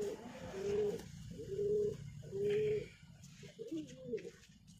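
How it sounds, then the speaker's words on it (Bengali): A male pigeon coos up close in a series of four low, rolling, evenly spaced calls, with faint background noise between them. "খুব অ্যাগ্রেসিভ পায়রা দেখুন"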